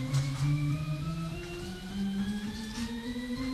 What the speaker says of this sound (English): a chromatic scale sounds like this